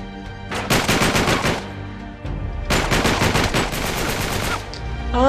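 Sustained automatic machine gun fire in the video game Uncharted 3, set in the London Underground, comes as two long loud bursts of rapid shots with a short pause between them and no talk.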